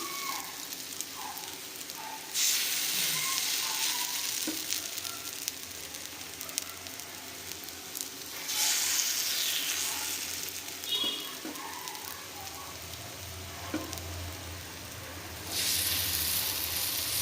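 Prawn-head fritters (bora) sizzle steadily in hot oil, a dense, close crackle that swells into louder bursts every few seconds as batches are added or turned.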